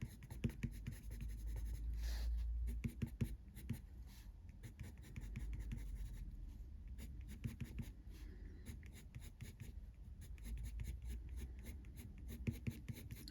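Coloured pencils scratching and shading on paper while colouring hair in an art colouring book, close and quiet, with soft rhythmic strokes and short pauses.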